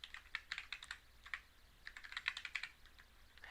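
Quick bursts of keystrokes on a computer keyboard enter a cheat code for a PC Harry Potter game, a rapid patter of clicks in two clusters with a short pause between them, close and crisp over a quiet background.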